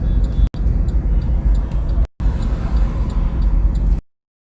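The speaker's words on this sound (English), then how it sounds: "if you hear the clicky, clicky, that's a hazard light" Car hazard lights tick in a steady rhythm during a vehicle caravan at a street protest in Portland, Oregon. The faint regular clicks sit under loud, constant traffic and crowd rumble, with two brief dropouts.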